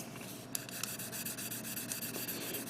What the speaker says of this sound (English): Just cleaning up a little bit with this 800 grit sanding.